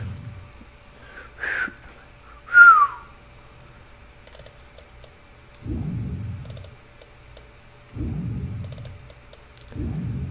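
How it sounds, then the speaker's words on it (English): A person whistles two short notes, the second sliding downward, alongside keyboard clacking during a game session; later come a few low, muffled bursts. "Terrible whistle."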